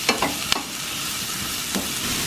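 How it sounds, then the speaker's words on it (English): Onion and garlic sautéing in a pan at a camp cooking setup, a steady broadband sizzle with a few sharp utensil scrapes and clicks near the start and again later, close and alone with no talk. "Now I'm sauteing the onion and garlic."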